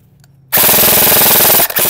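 Lancer Tactical airsoft gun firing full auto, a loud rapid mechanical burst of evenly spaced shots starting abruptly after near silence, with a brief stutter before the rattling stream resumes.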